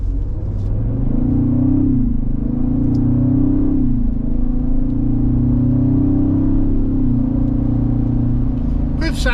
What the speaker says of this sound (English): Good sound though out of this exhaust on this V6.